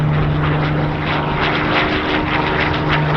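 A Hawker Hurricane 1 propeller fighter takes off at an airshow, its engine a loud, continuous, close droning roar with a steady low hum throughout.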